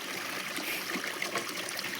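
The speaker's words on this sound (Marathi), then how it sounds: "आपण छोट्यावरून ह्याच्यात पाणी सोडतोय" Continuous splashing rush of water pouring into a small water cistern, steady and close, with small gurgles and drips throughout.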